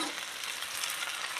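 Hot water poured into sizzling fried masala in a pan while cooking a rohu fish curry, a steady bright hiss and crackle that carries on unbroken at moderate level.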